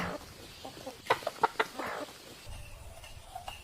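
Roosters clucking at a farm, a few short sharp calls bunched in the middle over a faint outdoor background, fairly close and moderately loud with no talking.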